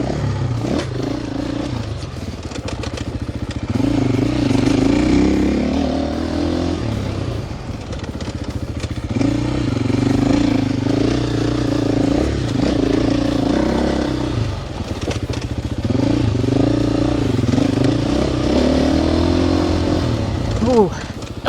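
A 2026 KTM 450 XCF-W dirt bike ridden offroad in Texas, its four-stroke engine rising and falling through throttle blips and shifts close up, with the rider talking throughout.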